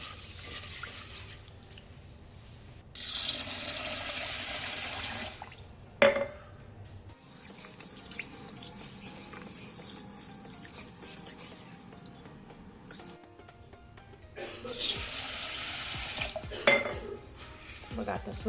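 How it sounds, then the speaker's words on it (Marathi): Moth beans being rubbed and rinsed in water in a metal vessel, with bursts of pouring water, clattering grains and scraping against the pot, moderately close, in separate washing rounds. "आपण ही मटकी अशी चोळून अशी 2 ते 3 पाण्याने अशी स्वच्छ धुवून घ्यायची आहे"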